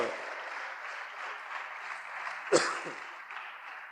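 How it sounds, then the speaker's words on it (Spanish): A church congregation claps during a Spanish-language sermon. The clapping is soft and distant with a roomy, filtered tone, and a single sharper knock stands out midway. "Démosle fuerte las palmas al Señor."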